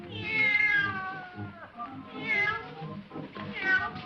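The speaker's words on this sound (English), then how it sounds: "the cat wasn't supposed to be there." A small kitty meows repeatedly on a live 1950s children's TV puppet show, with three loud drawn-out cries spaced across the moment amid faint background voices.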